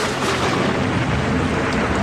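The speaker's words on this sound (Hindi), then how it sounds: "बारिश तो जैसे आज ही पूरे साल की हो रही थी।" Heavy rain pours steadily with deep thunder rumbling beneath it, a loud, dense, unbroken roar with no pauses.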